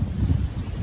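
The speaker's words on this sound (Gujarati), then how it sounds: "આ જો પવન ચાલુ થયો છે" Wind gusts as rain sets in, a steady low rumble and buffeting against the microphone with no voices, briefly heard.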